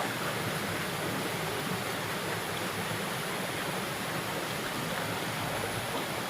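Flowing stream water in a forest setting, a steady broadband rush that stays even and continuous throughout, moderately close with no other sounds standing out.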